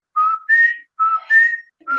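A person whistles an imitation of the tres tires bird's call: four clear pitched phrases alternating low and higher notes, close and fairly loud, with brief pauses between them.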